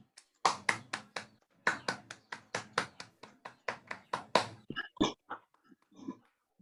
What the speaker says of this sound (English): let's give applause to Andrew's mom again